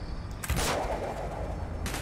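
Gunfire in Call of Duty Black Ops, a burst of rapid shots with a sharp onset, then a second volley near the end, loud and close with no talk over it.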